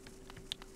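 A fly-like enemy buzzes briefly in Hollow Knight, a short faint insect whir with a sharper tick at the end.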